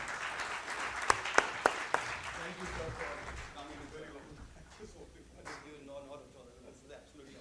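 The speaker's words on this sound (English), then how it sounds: "Let's welcome Dr. Anurag with a big round of applause." Conference audience at an intellectual property summit applauds to welcome a speaker, moderate scattered clapping with a few sharp near claps that fades out as voices carry on underneath.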